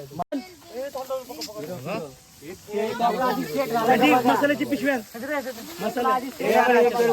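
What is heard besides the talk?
hot oil tempering sizzling for chicken fry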